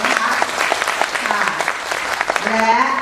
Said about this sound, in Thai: ปรบมือให้กับก้าวแรกของเรา